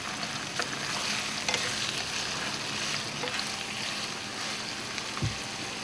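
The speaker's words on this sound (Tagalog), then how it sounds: "Isusunod na po natin ang ating mga gulay. Unang-una po yung puso ng saging kasi medyo matigas po siya." Banana heart vegetables sizzle in an oiled pan while being stirred for a Filipino kare-kare stew, a steady close frying hiss with brief scraping stirs and a soft thud near the end.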